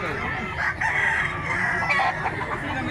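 A young rooster stag of the silver grey variety crows at a rural fowl sale in Mantalungon, Cebu, its loud drawn-out call rising over crowd noise with faint voices nearby.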